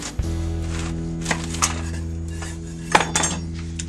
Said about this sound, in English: And then, so slice this in half.